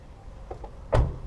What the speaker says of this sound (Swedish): Den låses upp när jag tar i dörren.